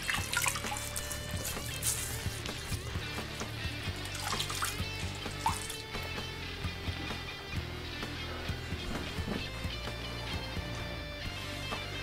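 Tap water runs steadily into a sink during a wet shave as the face is wetted, a continuous splashing flow with drips, close by and moderately loud throughout, no talking.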